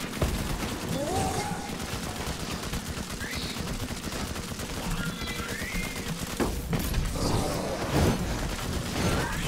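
Hip-fire gunshots against shielded enemies in the video game Pagan: Absent Gods crack out in quick, repeated bursts within a dense, loud mix of game effects, with a voice murmuring faintly underneath.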